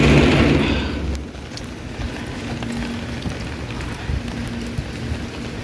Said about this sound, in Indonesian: Masya Allah guys, hujan gede.